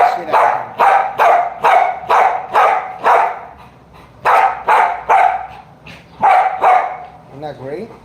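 A bullmastiff barks repeatedly in a steady rhythm, loud and close, a short pause, then more barks and a brief whimper at the end.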